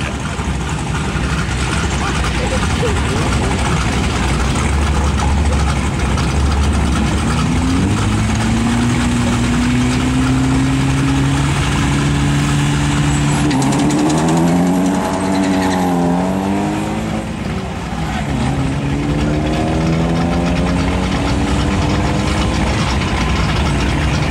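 A Honda Civic and a Nissan 240SX with a 2.4-litre twin-cam engine sit at a drag strip, their engines droning loudly before revving up in rising sweeps and settling back, over a steady background roar.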